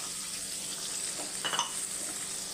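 A steady frying hiss of sambar bubbling in a pan with asafoetida, with a brief burst of louder crackling near the middle, no voices.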